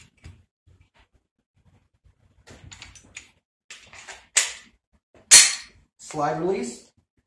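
A Glock 19X pistol fires a few sharp, loud shots spaced apart, with quieter handling clicks and rustles between them outdoors.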